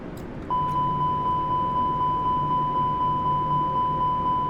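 Overspeed warning in Microsoft Flight Simulator 2020, a rapid train of short, high electronic beeps starting abruptly and repeating evenly for several seconds over cockpit engine hum.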